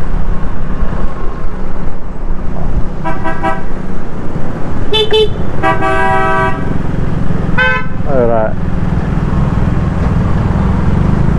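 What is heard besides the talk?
street traffic with taxis in Davao City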